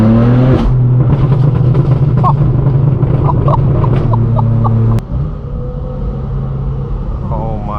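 A straight-piped BMW M4 F82 and supercars rev hard inside a tunnel on a hypercar rally, loud sustained engine roar with rising harmonic sweeps and crackles, then a sudden shift to a steadier drone after a sharp pop.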